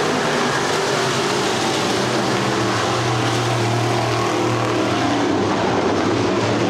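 Race cars roar up to speed on a green-flag restart at Winston Speedway, a loud, dense engine drone that holds steady and builds slightly as the field pulls away.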